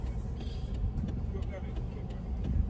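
A car with a fault, driven on a road in Jamaica, rumbles with steady low engine and road noise and faint irregular knocks, close and continuous, with a voice speaking over it.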